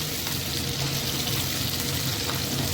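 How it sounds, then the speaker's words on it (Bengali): Capsicum fries in a pan with a loud, even, unbroken sizzle up close, no talking over it. "2 মিনিট মতন ক্যাপসিকামটাকে ফ্রাই করবে।"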